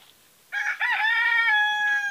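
A rooster on a small French poultry farm crows once, loud and close, with a sharp rising start and a long drawn-out call lasting over a second, in otherwise quiet surroundings.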